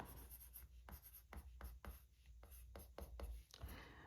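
Pen scratching out the word March by hand on a paper budget planner page, a quiet run of short strokes and taps, close and steady, with no one speaking.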